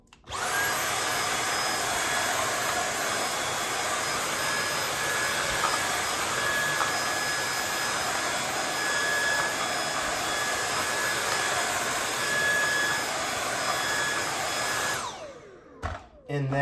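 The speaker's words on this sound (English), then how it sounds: "But I'll go ahead and vacuum this off." A vacuum cleaner roars steadily up close with a high whine for about fifteen seconds as it cleans the pre-filter of a Coway Airmega air purifier, then shuts off and winds down, followed by a few clunks.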